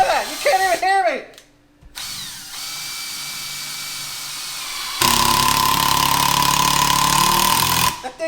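A Milwaukee M12 Surge cordless impact driver whines in short bursts, then runs steadily with a loud rattling hammering, close up; brief voices at the start.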